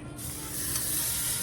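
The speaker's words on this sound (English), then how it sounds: "you hear that sizzle, that means it's good" Butter sizzles in a new skillet from Walmart, a sudden close hiss that starts abruptly and holds steady and bright.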